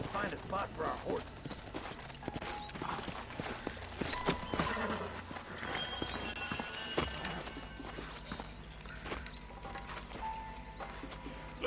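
Horses in the Red Dead Redemption video game, with hooves clip-clopping and an occasional whinny, set among game sound effects and ambient noise, while voices talk over much of it.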